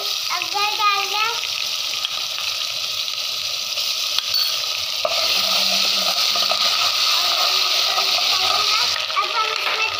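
Garlic frying in a pan for a potato chicken curry, giving a steady crackling sizzle that grows louder partway through, with a voice talking faintly in the background.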